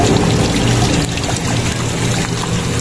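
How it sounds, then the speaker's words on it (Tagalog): A loud, steady rush of sprayed water flushes the radiator and engine block of a Mitsubishi Pajero Gen 2 with a 4M40 diesel engine, hissing continuously up close. "siguro isprayan natin ng mga ilang minutes para mas mapalabas po natin yung nilagay po natin na chemical dito"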